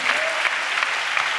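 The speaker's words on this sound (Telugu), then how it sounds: "అవునన్న బిడ్డలు చప్పట్లు కొడుతూ స్తోత్రాలు చెప్దాం" A church congregation claps together during a Telugu sermon, dense, steady applause at close range with a few sharper peaks, lasting the full short stretch.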